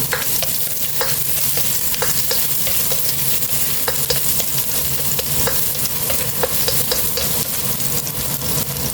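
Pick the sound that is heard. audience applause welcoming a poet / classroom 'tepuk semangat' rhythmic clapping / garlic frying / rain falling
garlic frying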